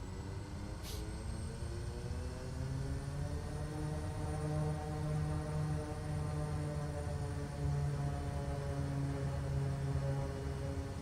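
The turboprop engine of a Kodiak 100 in a flight simulator runs at high idle with the propeller full forward, a steady, droning hum layered with harmonics that swell slightly midway and hold alone.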